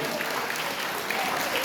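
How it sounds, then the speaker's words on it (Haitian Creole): Continuous crowd applause at a gathering honoring engineers, dense and steady throughout, moderately loud with no break. "On applaudit pour nous, applaudit ingénieurs."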